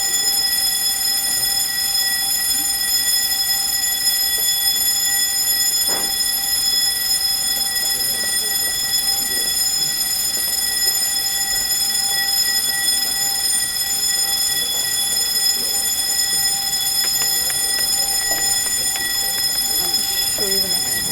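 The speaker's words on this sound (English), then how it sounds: "that's a long bell" A long electronic bell or alarm rings continuously during an information session, a steady high tone with overtones that holds level for the whole stretch while faint talk and room noise sit underneath.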